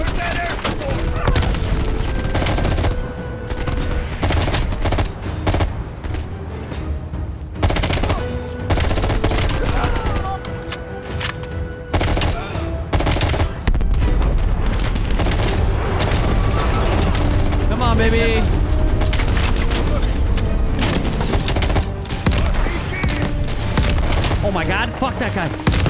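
RPG blasts and heavy gunfire in the Call of Duty Black Ops Cold War campaign mission "Nowhere Left to Run". Loud, nearly nonstop booming explosions and rattling automatic fire run throughout, with a voice shouting under the din.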